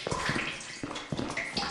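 Rainwater running and trickling close by, a soft gurgling flow with small splashes, faint and brief.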